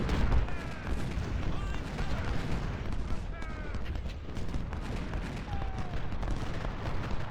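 Distant artillery and gunfire booms keep rolling across a Civil War battle at Gettysburg in the game Ultimate General: Civil War, where 24-pounder cannons fire amid a dense, continuous din of battle noise and thin whistling tones.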